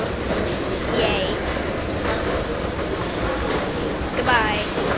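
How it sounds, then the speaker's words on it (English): A Paris metro train rumbles at Gare du Nord, a continuous low roar of wheels and motors with squealing brakes and rail screeches rising now and then, while people talk over the noise. "We're now entering the metro."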